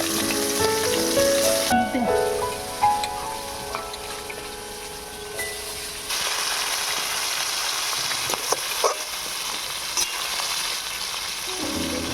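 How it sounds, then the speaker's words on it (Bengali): Chicken pieces fry in hot oil for a jali pitha recipe, giving a steady close sizzle with brief louder crackles and spatters, and no talking. "এবারে একে একে আমি চিকেনগুলোকে ভেজে নেবো।"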